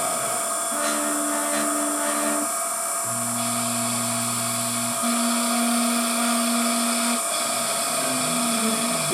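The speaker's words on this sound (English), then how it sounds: "Goes down into the block, now cutting a circular path, so the finished hole will be" An Emco F1 CNC milling machine cuts a circular 20mm hole in a block with a constant mechanical drone. Shifting tonal whines rise and drop in steps as the cutter moves along its path.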